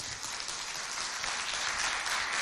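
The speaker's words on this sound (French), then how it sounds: "On applaudit bien fort." Audience applause at a school event in Mao, a steady wash of clapping filling the whole stretch at moderate, even loudness with no voices on top.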